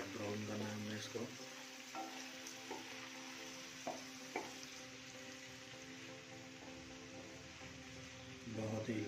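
Potatoes frying in a pan with onions for aloo mongray, giving a steady sizzle with occasional stirring clatter, close and fairly loud throughout.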